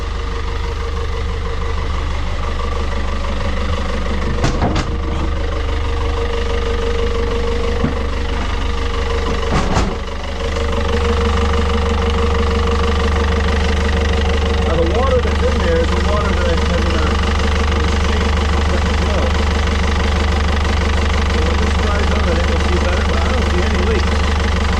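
A boat's engine room with the engine running, a loud steady low drone and mechanical hum filling the space throughout, briefly cut by a couple of sharp knocks; a person talks over the noise.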